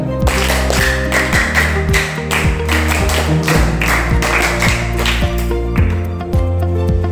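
A gathering applauds the second-place winner of a speech contest with a short round of near, somewhat uneven hand claps over a continuous droning tone.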